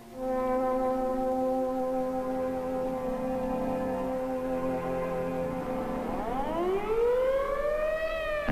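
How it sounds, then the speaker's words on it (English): A Cold War civil defense air-raid siren wails in a long steady tone that is loud and continuous, then sweeps upward in rising harmonic curves near the end, sounding alone over an emptied city. "as directed by the mayor, the siren sounds once more"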